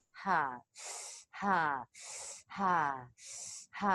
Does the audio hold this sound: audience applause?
no